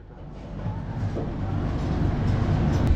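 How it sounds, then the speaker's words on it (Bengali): Shatabdi Express (12042 NJP–Howrah) pulling into New Farakka Junction, a steady low rumble of the moving train that slowly builds in loudness, heard from on board with no talking. "নিউ ফারাক্কা জাংশনে আমাদের গাড়ি ধরছে"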